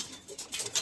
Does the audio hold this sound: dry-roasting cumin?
no